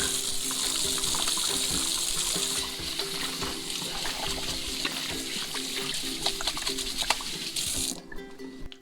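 Running tap water pours steadily into a sink while hands are washed, a continuous close splashing hiss that drops slightly partway through and cuts off abruptly near the end, with no talking.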